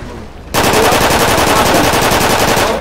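Loud, rapid automatic gunfire from a gun in the MindOnMurder RP video game, starting abruptly and continuing as a dense unbroken burst for over two seconds, close and harsh.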